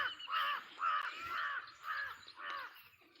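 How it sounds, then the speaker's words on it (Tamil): Several loud, harsh crow caws in a steady series, close by, with brief gaps between each call and no talking. "காக்கா கத்திக்கிட்டு போகுது"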